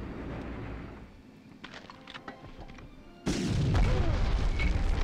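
A grenade blast in the PS1 game Medal of Honor, inside the V2 rocket plant, lands as a sudden loud boom that gives way to a sustained roaring rumble after earlier scattered thuds and clicks.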